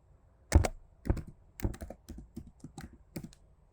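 Brisk, close typing on a computer keyboard, irregular clusters of crisp key clicks with short pauses between bursts, clear and alone without any voices.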